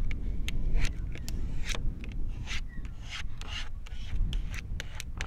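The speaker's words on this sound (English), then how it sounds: "So rub the backing, peel it off, put it on, and then rub it on the vehicle." A card rubbing a vinyl decal onto the body of a Toyota HJ47 Troopy, giving repeated short scraping strokes, close and fairly quiet, in an uneven rhythm.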